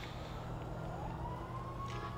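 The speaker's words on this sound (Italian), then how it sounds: "Tanto arriva il camion dei pompieri" A fire truck siren in the GTA 5 video game, a steady wailing tone rising slightly over a dense rumble of game traffic and engine noise.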